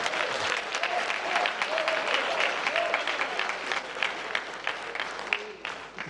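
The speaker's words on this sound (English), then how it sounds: "Please give her a round of applause." Audience applause at a televised Ghanaian football association election news event, dense continuous clapping from a crowd filling the whole stretch at steady loudness, with faint voices mixed in.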